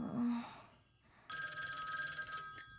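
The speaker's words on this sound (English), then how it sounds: "Phone's ringing" A telephone rings in the Tokyo Babel video game, a bright, shrill electronic bell that starts abruptly after a brief muffled sound and a pause, then rings continuously and loudly to the end.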